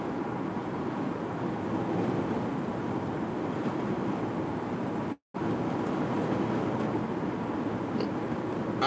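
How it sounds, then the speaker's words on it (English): Steady wind roars and buffets a microphone continuously, a dense rushing noise with one brief dropout partway through. "it's really, really windy on this side of the state"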